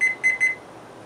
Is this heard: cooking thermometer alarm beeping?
yes